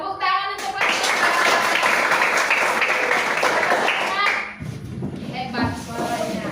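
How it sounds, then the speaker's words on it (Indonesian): Schoolchildren clap for their teacher in a classroom, a dense sustained burst of applause lasting several seconds before thinning out, with children's voices mixed in near the end. "Tepuk tangan untuk Pak."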